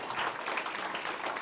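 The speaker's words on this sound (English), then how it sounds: "one more round of applause for Coach Biolo" Audience applause for Coach Tony Biolo, the departing Wisconsin Rapids football coach, at a team kickoff event: a brief, dense wash of many hands clapping at moderate distance, fairly quiet and steady, with no voices over it.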